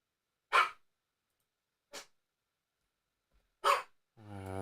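Dogs in the Entropia Universe game bark in three short, sharp yelps spaced a second or more apart against near silence, followed by a low droning tone.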